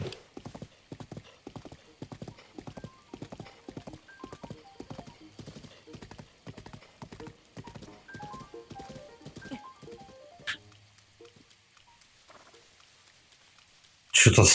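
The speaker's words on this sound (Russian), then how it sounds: "Давно на лошади не катался." Horse hooves galloping in The Legend of Zelda: Breath of the Wild, a steady rhythmic clip-clop of many hoof beats that stops near the end, followed by a brief louder burst.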